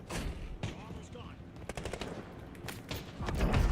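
Gunfire in a Black Ops 6 match, rapid bursts of shots and sharp cracks against a busy game backdrop, with a voice talking over part of the action.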